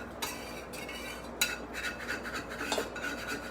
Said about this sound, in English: I'm going to go ahead and scrape it. And I'm going to try to get all that egg off of there.